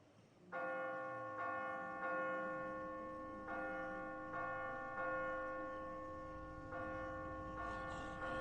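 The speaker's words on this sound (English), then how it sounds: "Ring the dinner bell." The dinner bell in the video game The Walking Dead rings loud and clear, struck about eight times at a steady pace, each ring ringing on into the next.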